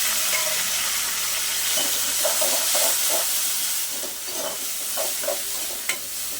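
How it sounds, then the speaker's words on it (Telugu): Chopped tomatoes frying with onions in a pan make a steady, close hiss and sizzle, with stirring scrapes breaking through now and then. "ఇప్పుడు మనం కట్ చేసి పెట్టుకున్న టమాటాలు కూడా వేసేద్దాం"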